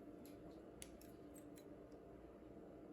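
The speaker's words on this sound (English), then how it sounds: "we're just gonna cut open this paper towel" Scissors snip into a paper towel up close, with several quick, crisp cuts in a row over a faint steady background hum.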